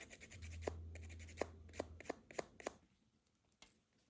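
Nail file smoothing the tip of a pink French soft gel nail, a quiet series of short, sharp rasping strokes in an irregular rhythm that fade out near the end, close and without talk.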